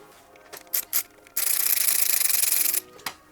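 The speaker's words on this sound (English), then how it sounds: "As you remove it, please ensure that the shoulder washer is being removed with that bolt." Front shroud bolt with its shoulder washer being worked loose on a 2022+ Yamaha XSR900, heard as a few short scrapes followed by a sustained, close rubbing grind that stops abruptly, with no talking.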